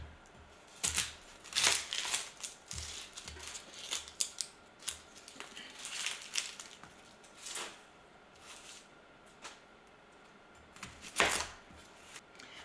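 Onions being chopped by knife on a cutting board, a scattered series of crisp close cuts and taps, some in quick bursts, with quiet gaps between.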